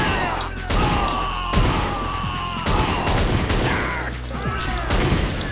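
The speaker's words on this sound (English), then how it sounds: "Rocket launching zombies." Rocket-launching zombies fire in the first-person shooter NeoDoom, producing loud, dense bursts of explosive booms and crashes that repeat throughout amid a harsh wash of game noise, with no talk.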